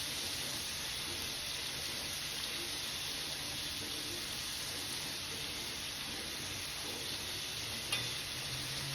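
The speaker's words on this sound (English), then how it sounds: "Y'all see how that chicken is frying up?" Continuous loud sizzling and crackling of chicken frying in hot oil, steady throughout with a faint clink near the end.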